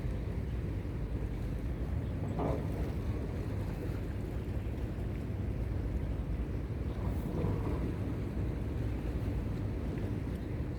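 A garbage-collecting boat works the fog-covered sea off Tinwan Praya Road in Hong Kong on an afternoon. Its engine gives a steady, low, distant rumble, blended with wind and water noise, and no one speaks.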